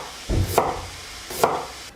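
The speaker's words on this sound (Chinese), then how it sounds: "切一些姜片" Two sharp knife chops on a cutting board while slicing ginger for a pork trotter dish, spaced about a second apart, crisp and close with quiet room tone between.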